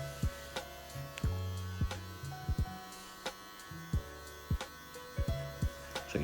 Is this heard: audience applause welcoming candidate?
no